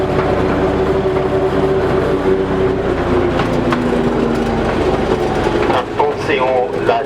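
A small-gauge Driving Creek Railway train rumbles along its tracks, loud and close, with continuous wheel clatter, rattling wagons and a faint squeal. The noise stays steady throughout, and a voice speaks faintly underneath.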